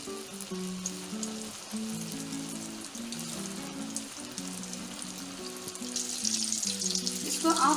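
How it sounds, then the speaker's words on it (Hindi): Pieces of chicken 65 deep fry in hot oil with a steady, loud sizzle and bubbling that grows stronger toward the end, over soft background music. "इसको डीप फ्राई करना है आपको।"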